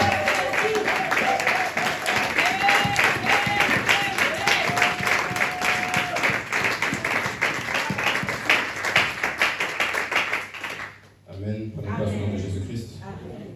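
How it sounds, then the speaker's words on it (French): A French-speaking church congregation stands and claps in a brisk, steady rhythm while voices sing and call out over it. The clapping stays loud and even, then stops abruptly near the end, leaving a few softer voices. "Nous allons nous lever et acclamer la parole de notre Seigneur."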